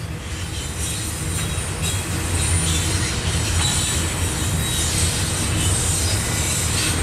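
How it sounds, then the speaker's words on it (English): A train rumbles steadily past close by, wheels clattering and squealing on the rails throughout, with no break in the passing cars. "This is a long train."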